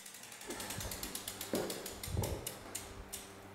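A loose cassette on a bicycle mounted on an indoor trainer gives off rapid, regular ratcheting clicks with a few heavier clunks, close and fairly loud, with no speech.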